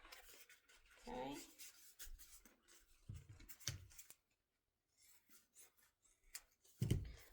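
Cutting sounds from scissors or a blade working through paper or craft material for a DIY giant sunflower, with soft, intermittent snips and rustles and quiet pauses between them, close and faint.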